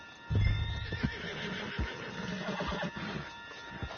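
A horse in the video game Red Dead Redemption 2 lets out a loud, close whinny near the start, followed by scattered thudding hoofbeats and movement over a low background rumble.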